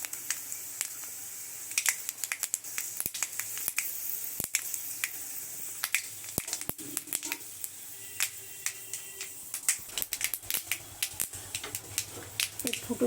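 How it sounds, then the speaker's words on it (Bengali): Panch phoron spice mix and white mustard seeds spluttering in hot oil in a home kitchen, giving a dense run of sharp, irregular pops and crackles over a steady sizzle, close and fairly loud throughout. "ভালো করে ফুটছে ফটফট করে"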